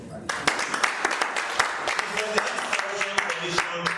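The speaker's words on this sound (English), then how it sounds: "Please clap for her properly" An audience at an anti-corruption launch event in Sierra Leone breaks into scattered clapping, uneven and sparse, mixed with a voice talking over it.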